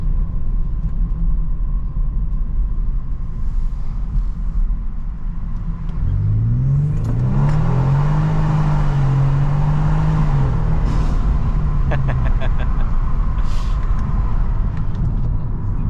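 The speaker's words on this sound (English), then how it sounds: "I'm gonna go ahead and do another acceleration." Tuned 2023 Genesis G70 with 450 hp under acceleration, a low engine rumble that rises in pitch and then settles over steady road noise, heard from inside the car.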